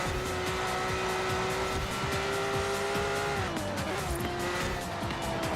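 Ferrari Testarossa in Forza Horizon 4 under hard braking, its engine droning steadily while tires squeal continuously; the engine pitch drops midway as the car slows, loud and close throughout with no talk.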